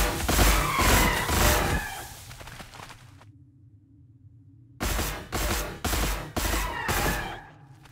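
Reaction fire from a city in the Warhammer 40K Gladius strategy game: dense, rattling gunfire bursts that break off into a quiet gap, then return as a rhythmic series of sharp volleys.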